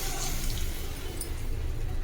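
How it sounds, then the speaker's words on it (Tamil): Water is poured into a pan of fish curry being cooked on the stove, giving a steady, soft rushing splash that runs on without a break. "தண்ணி கொஞ்சம் போட்டுக்கலாம்."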